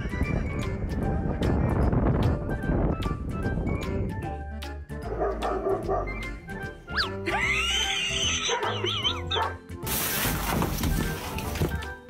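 Dog barking in short yips and whimpers, mixed with clip-clop like tapping and a whinny-like cry, loud and close, shifting through several bursts.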